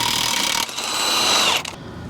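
A press-in front wheel bearing tool on a Toyota Avalon is backed off with a power tool, giving a loud, close whirring buzz in two bursts with a short break between.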